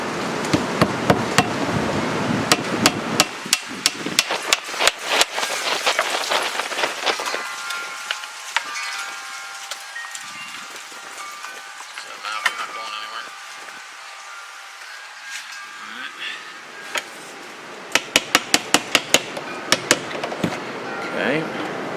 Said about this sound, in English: We'll take our 4 screws. Wow, do I have a lot of screws here. Nails, sorry. And we drive it down as far as we can.